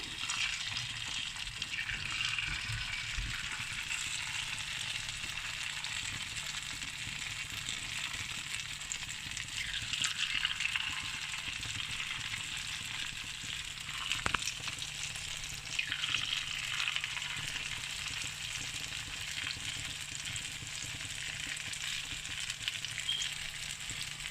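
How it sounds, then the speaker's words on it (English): Long churro dough strands fry in very hot oil, giving a steady, moderately quiet bubbling sizzle with occasional soft pops and stirring. "Now the oil is really hot. I'm just going to fry the churros now."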